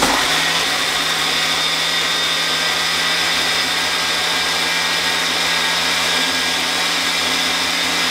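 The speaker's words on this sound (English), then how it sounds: "have your obnoxiously loud blender blend" A loud blender whirs steadily and continuously at close range, a harsh grinding motor roar with no pauses.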